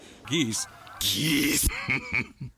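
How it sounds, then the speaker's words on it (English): Geese honking as a sound effect, a series of loud nasal honks and squawks of varying pitch, close and overlapping, with a burst of noisy crackle in the middle. "Geese."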